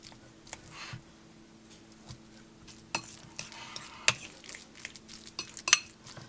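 A fork mashes avocado by hand in a bowl for guacamole, giving faint, scattered clinks and soft taps of metal against the dish, quiet and irregular with no talk.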